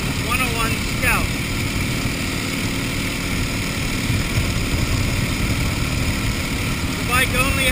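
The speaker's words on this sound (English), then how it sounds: "Beautiful Sunday morning on a 1931 Indian 101 Scout." A 1931 Indian 101 Scout motorcycle engine runs steadily with a continuous low drone and rumble through the whole stretch, with no talk over it.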